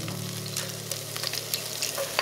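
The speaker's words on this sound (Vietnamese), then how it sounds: "mình thêm hành tỏi vào phi lên cho thơm" Onion and garlic sizzle in hot rendered chicken fat, giving a close, steady frying hiss dotted with small crackles and light stirring clicks.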